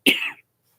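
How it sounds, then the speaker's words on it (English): A single short, dry cough, close and clear, with silence after. "Talking too much, I'm starting to cough."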